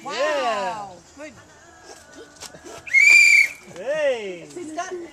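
A small whistle blown at a birthday gathering gives one sustained shrill tone, loud and close, with people talking and laughing before and after it.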